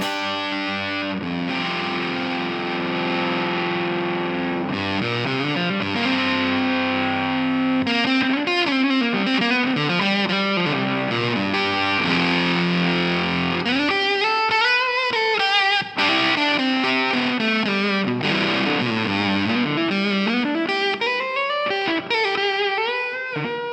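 Electric guitar played through a KingTone MiniFUZZ Si silicon fuzz pedal in zonk mode, with controls at noon, giving a loud, sustained, mid-heavy honking fuzz as continuous melodic riffs and bends run without pause.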